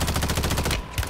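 Rapid automatic gunfire in a first-person video game shooter: a fast, even train of loud, close shots that cuts off abruptly, followed by a single trailing report.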